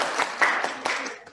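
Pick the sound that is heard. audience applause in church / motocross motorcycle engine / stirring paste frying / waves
audience applause in church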